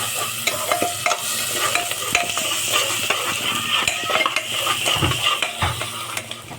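Steady sizzling of onions frying with ginger-garlic paste in a pan, with repeated scraping and stirring clatter from a spoon against the pan.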